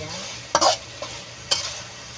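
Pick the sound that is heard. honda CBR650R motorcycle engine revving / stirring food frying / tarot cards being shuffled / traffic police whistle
stirring food frying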